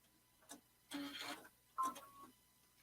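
A sewing machine runs a quick back stitch at the end of a seam on a draped tank top, giving three short, quiet mechanical bursts with pauses between, close by in a still room.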